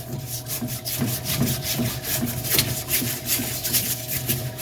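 A Scotch-Brite pad scrubs a steering knuckle from a 1985 Surf Wagon's front suspension, giving a steady, rhythmic rasping rub with even back-and-forth strokes, moderately quiet and close, with no talking.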